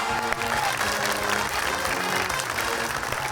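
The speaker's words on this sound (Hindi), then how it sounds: "आप भरपूर तालियां, नबील साहब जीत चुके हैं" Studio audience applause fills a Pakistani comedy talk show set, steady, full clapping from many people running the whole stretch, with faint musical or background tones mixed underneath.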